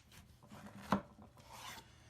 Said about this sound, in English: That's what it looks like when you zest.